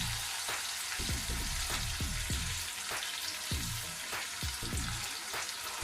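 Turmeric and curry leaves fry in oil with onion paste, a steady close hiss dotted with repeated sharp spitting pops and crackles of the leaves hitting the hot oil.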